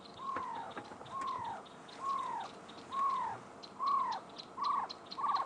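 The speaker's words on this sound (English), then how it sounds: "That's the bird. So it was a barred owl." A barred owl gives a steady series of about seven falling hoots, spaced under a second apart, moderately loud over a busy bed of night insects and background noise, with no one speaking.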